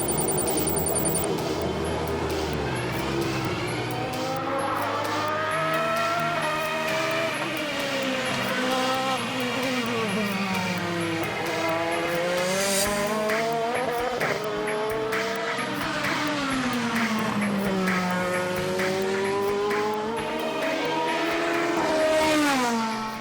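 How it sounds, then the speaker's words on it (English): A Ferrari-powered A1GP race car laps the Imola circuit, its high-revving engine loud and close throughout, pitch climbing and falling through gear changes and corners in a steady, continuous run. "Ferrari test driver Andrea Bertolini, who was back behind the wheel of the newly liveried car on his home circuit"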